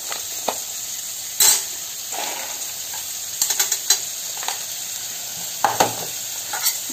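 Green peas sautéed in a pan for a cabbage stir fry, giving a steady sizzle broken by sharp scraping stir strokes and a few clinks at close range, with no talking.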